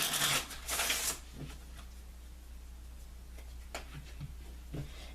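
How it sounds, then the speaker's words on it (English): Vintage Gypsy Witch oracle cards are shuffled by hand, with two loud riffling bursts at the start, then quieter taps and soft card handling against a low steady hum. "I'm going to take a few moments to shuffle the cards."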